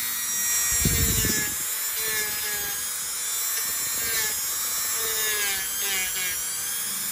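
A Dremel rotary tool grinding down very thick toenails during debridement, a steady high-pitched whine with shifting tones as it bites into the nail, running continuously and close up with brief rougher scraping bursts.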